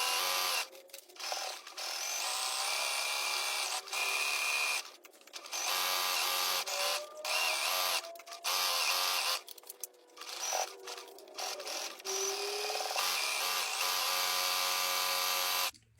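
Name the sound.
sewing machine stitching pajama pants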